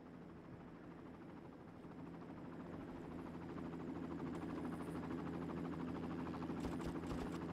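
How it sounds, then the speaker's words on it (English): A steady helicopter drone with thudding rotor chop in the video game Far Cry, growing slightly louder and closer over several seconds, with no talking. "Here's the first helicopter."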